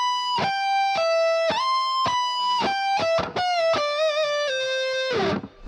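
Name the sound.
electric guitar lick picking pre-bent notes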